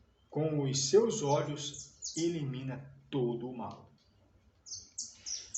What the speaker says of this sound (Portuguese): Olha, escuta os passarinhos cantando